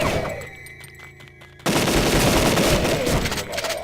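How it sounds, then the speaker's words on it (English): Shotgun blasts in the video game Deadly 30, a sudden loud burst of repeated gunfire kicking in after a quieter stretch of music and continuing densely to the end. "This shotgun is extremely powerful."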